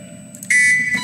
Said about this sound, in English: And then there's the alarm.